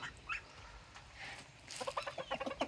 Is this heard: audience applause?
no